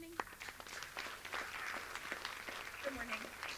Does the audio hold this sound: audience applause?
yes